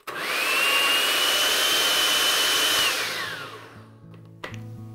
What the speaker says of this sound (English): Stick it into your blender.